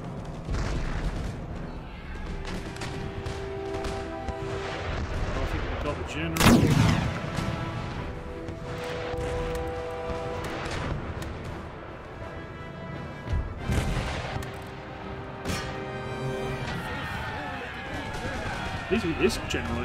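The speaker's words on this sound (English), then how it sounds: "he loves the artillery fire" Artillery fire in the Napoleonic-era strategy game Empire: Total War during a siege of Copenhagen, with several heavy booms, one especially loud near the middle, rising over a battle din and steady talk.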